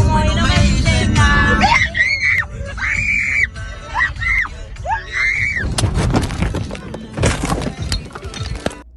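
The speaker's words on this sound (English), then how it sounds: "the person filming was screaming in fear for 5 whole seconds before the crash" A person filming on an American road screams in fear in repeated rising-and-falling shrieks before a car crash, followed by loud breaking, shattering and banging impacts.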